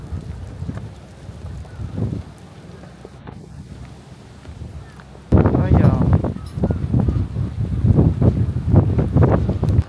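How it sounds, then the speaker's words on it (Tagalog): Strong winter wind near boats in Osaka buffets the microphone in a steady roar that grows louder halfway through, with faint voices mixed into the gusts. "Kasi nga baka sobrang lakas ng hangin, di ba?"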